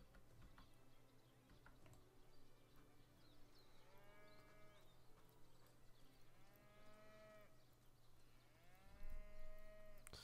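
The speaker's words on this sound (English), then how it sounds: "It's mooing incessantly." A cow in the video game Divinity: Original Sin moos repeatedly in long, drawn-out calls, three or four in a row, fairly faint over a low steady game hum with no talking.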